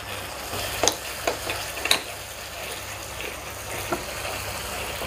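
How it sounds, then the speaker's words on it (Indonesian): Chicken frying in a pan with kaffir lime leaves is stirred, a low sizzle broken by a few sharp scrapes and clacks of the utensil, close by. "Sambil terus diaduk ya teman-teman semua, supaya tidak gosong"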